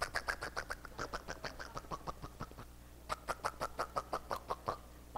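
A voice imitates a clucking chicken, giving a fast run of short, punchy clucks, a brief pause, then a second equally rapid burst, loud and close with no other talk.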